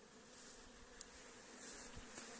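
Steady insect buzzing from many honey bees at hives with supers added while sunflowers bloom, a continuous hum with faint higher whines drifting in and out, fairly close and with no talking.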